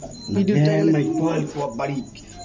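Black Bombay pigeons give soft, throaty coos nearby, mixed with and partly under someone speaking.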